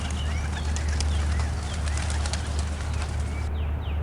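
A spotted dove coos in a few soft, repeated calls over steady outdoor background noise, moderately close and with no talking.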